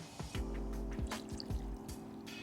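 Homemade limoncello liquor poured slowly through coffee filter paper, soft close trickling with a run of distinct drips and small squishy plops at irregular intervals.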